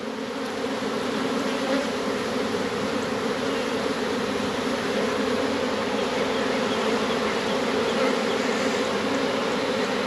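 A ground swarm of honeybees fans at a hive entrance outdoors, giving a steady, dense buzzing drone that holds loud and unbroken throughout with no voices.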